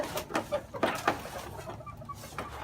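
Young pullets in a shed give soft, irregular clucks and short murmuring calls, close by and fairly quiet, with a few slightly louder bursts early on.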